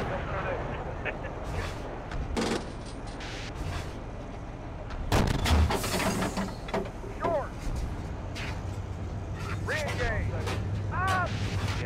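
A tank main gun fires a sabot round, a single loud blast near the middle with a booming tail, amid vehicle rumble and radio-style chatter from the crew before and after.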